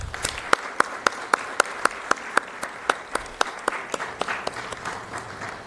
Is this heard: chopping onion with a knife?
no